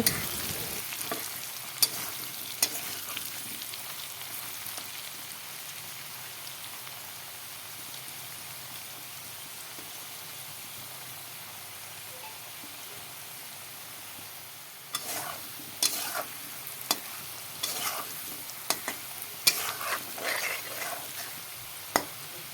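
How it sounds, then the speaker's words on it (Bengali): Potatoes frying in a pan for a home-cooked soybean dish, a steady sizzle running throughout, with louder crackling and stirring bursts toward the end. "আলুগুলোকে এখন লাল করে ভেজে নেব আমি"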